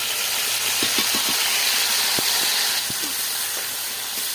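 A paste of cumin, ginger, garlic, onion, green chilli and dried chilli is poured into a hot pan of oil, giving a steady, bright sizzling hiss with a few small pops and crackles.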